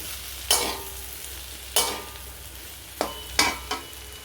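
Fried bitter gourd, potato, fish roe and onion are tossed together in a pan. Five distinct spatula scrapes, the last three close together, ring out over a low background sizzle.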